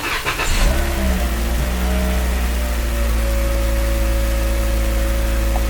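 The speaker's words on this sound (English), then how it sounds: "We start the engine." A car engine cranks and catches with a quick rising rev, then settles into a steady, close idle hum with a faint whine; the car has a bad fuel vapor leak detection pump.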